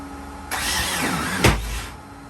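A first attempt to start a long-idle engine: a loud, rough whooshing crank begins, a sharp thump lands midway, then the noise fades as the start fails. The sound is close, with no talk.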